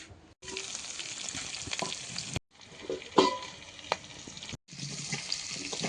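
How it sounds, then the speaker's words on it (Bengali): Potatoes frying in fish oil with chopped onion, garlic and dried chillies, a close hiss of sizzling broken by brief gaps, with a few clinks of a ladle and no talking. "আলু আর মাছের তেলটা এখন ভাজা হচ্ছে তার সঙ্গে আছে পেঁয়াজ কুচি রসুন কুচি শুকনো লঙ্কা"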